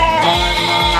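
Goats on a goat fattening farm in Desa Talang give one loud, sustained, tonal bleat that fills the whole moment, with no other sounds.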